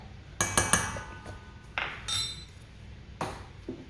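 A metal spoon clinks against a mixing bowl while baking powder goes in for buttermilk biscuits: a quick cluster of bright taps, then a few scattered clinks and a scrape, close and clear with no talk.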